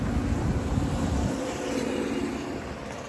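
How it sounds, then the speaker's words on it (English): Big trucks passing on a road: a loud, broad rumble of heavy traffic close by that eases slightly as the vehicles roll past, with no talking. "I had to let the big trucks pass."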